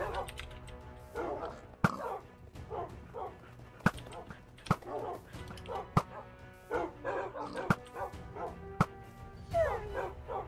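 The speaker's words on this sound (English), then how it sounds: "Shoot his dogs too." Wolves in the Minecraft game bark and yip in quick, repeated bursts, with sharp clicks and hits between them, while players talk over the top.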